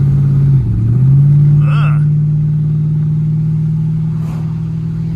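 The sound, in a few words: 1965 Chrysler 300L 413 big block engine running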